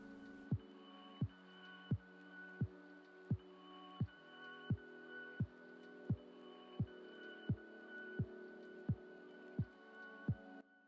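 Hair trimmers buzz faintly with a steady electric hum during a self-administered haircut, and soft thumping pulses recur about every 0.7 seconds.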